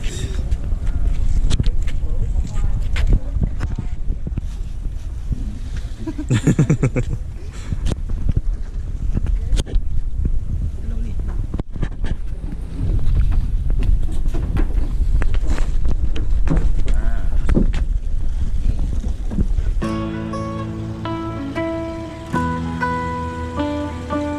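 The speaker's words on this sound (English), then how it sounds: "It's taking us down the pier to the long-tail boat so we can go to Emerald Cave first." Long-tail boat heading out toward Emerald Cave, its engine a steady low rumble under heavy wind buffeting the microphone, with talk throughout and music taking over near the end.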